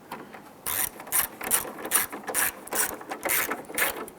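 A ratchet tightens fasteners holding the plastic grille on a 1995-2001 Ford Explorer, giving about ten quick, crisp clicking bursts in an even back-and-forth rhythm, close and moderately loud, with no voices.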